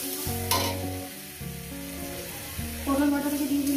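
Mashed pointed gourd paste hits a pan of fried onions with a lively sizzle and stirring, which grows louder near the end under background music.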